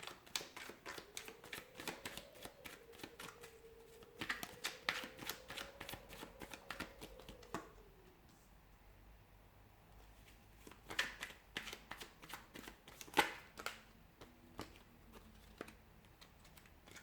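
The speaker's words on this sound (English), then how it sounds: "We'll give the cards a shuffle and see what's coming up for you." Tarot cards being shuffled in rapid riffling bursts, crisp clicking and flapping close by, with a quiet pause midway before more sporadic card snaps.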